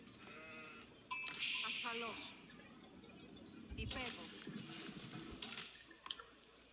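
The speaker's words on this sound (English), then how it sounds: "We found a sheep." Sheep bleat in an Age of Empires 4 match, a few short calls rising over busy game sounds and background music, with one bleat near the start and another burst in the middle.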